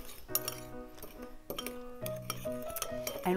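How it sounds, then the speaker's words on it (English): Cinnamon and sugar stirred together in a bowl, giving repeated close clinks and scrapes of utensil against dish in an uneven rhythm, with no talking. "Put them in a bowl together, and we'll just mix them right up."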